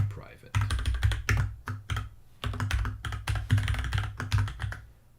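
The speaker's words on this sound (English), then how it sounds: "I have an awesome mechanical keyboard, and I love the way it feels when I type it" Rapid bursts of mechanical keyboard typing clatter up close in uneven runs with short pauses, loud and dominant throughout.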